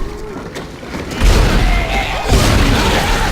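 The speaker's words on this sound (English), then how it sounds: "It's fun to explode things." A loud explosion in the sci-fi horror game Dead Space, two heavy booming blasts with rumbling low-end tails, no voices.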